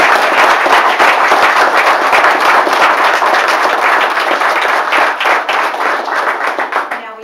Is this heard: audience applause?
yes